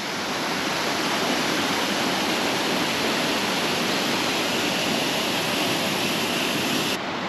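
Close, constant roar of a small waterfall on the Lycian Way in Turkey, a dense, even hiss of rushing water with no voices over it.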